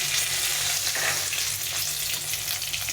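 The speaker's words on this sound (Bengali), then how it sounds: "তেলটা গরম হয়ে গেছে এখানে জিরে একটা লঙ্কা ফাটিয়ে নিয়েছি আর তেজপাতা দিয়ে ফোড়নটা দেব" Cumin, a chili and bay leaf crackle in hot mustard oil, a dense, continuous close-up sizzle with a faint low hum beneath.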